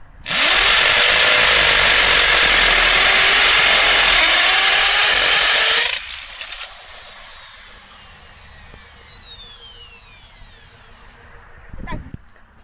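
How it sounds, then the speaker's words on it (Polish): Electric drill running off an inverter, boring a hole; a loud, close, steady whine for about five seconds, then cutting off and winding down, followed by a short knock. "Wiercimy!"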